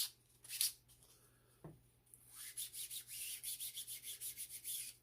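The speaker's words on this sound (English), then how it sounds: "Then I'll take my sandpaper. Kind of give it a little touch up." Sandpaper touches up a 3D-printed Notos handguard: faint scattered scraping at first, then a run of quick, even back-and-forth rubbing strokes, close and quiet.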